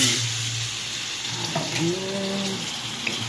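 Chicken and onions frying together in a pan for chicken afritada, a loud continuous sizzle with faint scraping and stirring, close up and without talk.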